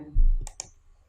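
A computer mouse clicked twice in quick succession, close and crisp, after a low thump, with no talking.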